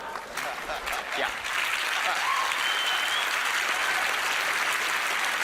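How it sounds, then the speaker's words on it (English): Studio audience applause at a magic competition TV show, a dense, steady wash of clapping that swells early and holds loud and even throughout, with faint voices mixed in. "Maybe, just maybe you're applauding because you think I am Jesus"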